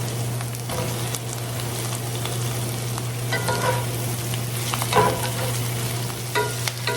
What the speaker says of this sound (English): Once I put the sausage in, I'm going to saute it probably another 2 to 3 minutes